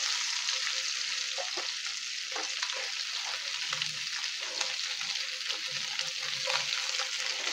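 Pork and onions frying in a pan for Filipino pork steak, a steady, fairly loud sizzle throughout with occasional faint scrapes of stirring, no voices.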